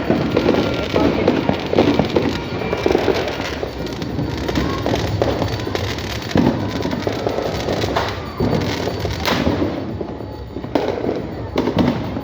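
A fountain firework sprays continuously with dense crackling, mixed with popping firecrackers nearby, while excited voices shout over the steady loud hiss throughout.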